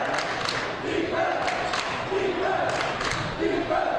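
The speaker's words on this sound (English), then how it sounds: "the Rapids crowd getting into it, as you can hear in the background, shouting defense." At a boys' high school basketball game, the home crowd chants "defense" in a steady rhythmic cadence. The chant repeats several times in the background, with sneaker squeaks and thuds from the court.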